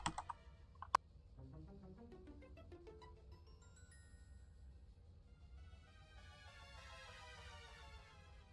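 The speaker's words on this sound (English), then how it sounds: "you hear me typing" Computer keyboard typing at a gaming PC during a Call of Duty Blackout session: a few faint clicks near the start, then tonal game chimes and music take over.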